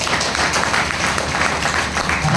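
Audience applause at a gathering honouring women, a loud, steady wash of crowd clapping that holds throughout.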